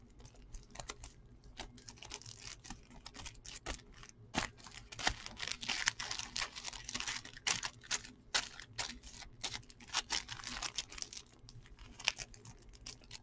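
Yu-Gi-Oh! trading cards from a Legendary Duelists: Magical Hero set being shuffled, a steady run of quick, crisp flicking and riffling clicks close to the microphone with no talking.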